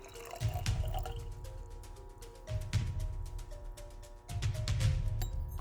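Water poured into a container while making a saline soap solution for home DNA extraction, a close, steady splashing stream that fills most of the clip, easing briefly twice and then resuming.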